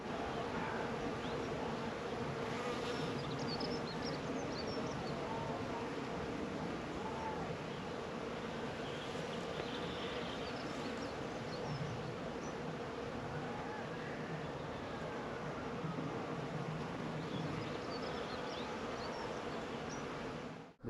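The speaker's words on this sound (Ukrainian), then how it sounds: "19 лютого працюють бджілки. Йде обліт, носять обніжку." Honeybees flying around a hive in February, a steady dense buzzing hum lasting throughout, with a voice speaking faintly over it.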